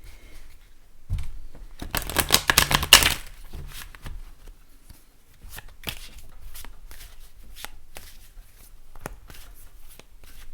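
Connolly Tarot cards shuffled in a brief, loud burst of riffling and flapping near the start, then softer handling, tapping and shuffling of the deck for the rest of the stretch.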